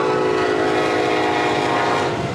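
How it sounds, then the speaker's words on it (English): An evening train passes through the small town of Windsor at sunset, a loud, steady rumble of rail cars with a sustained horn tone running throughout, close by and unbroken. "an evening train makes its way through town"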